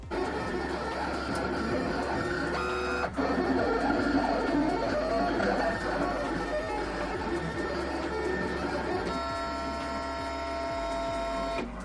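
A large vinyl sign cutter slices holographic vinyl, its carriage motor whirring and buzzing steadily nearby with shifting tones and brief pauses as the blade changes direction, continuing without a break for about twelve seconds.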